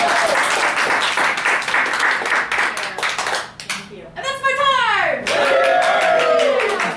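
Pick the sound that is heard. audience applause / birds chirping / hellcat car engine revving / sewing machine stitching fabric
audience applause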